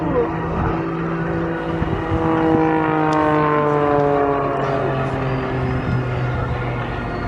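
An aerobatic display plane diving into a turn at a seaside airshow, its propeller engine note rising and sliding in pitch, loud and sustained with a steady drone underneath.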